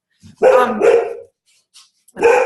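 A dog barks twice in quick succession, close and loud, then once more after a short pause.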